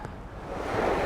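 Surf washing onto a sloping Bahamas beach, a steady broadband wash that swells louder toward the end of the brief moment, with a touch of wind on the microphone.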